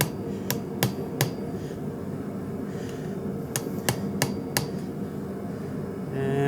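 A hammer gives a forge burner part a few light taps: sharp, close metallic strikes in two small clusters, each of three to four hits, over a quiet workshop background.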